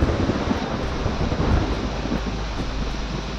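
Sudden stormy rain lashes down at an open market yard, a dense, roaring wash of rain and gusting wind that stays loud and unbroken throughout, with no voices heard.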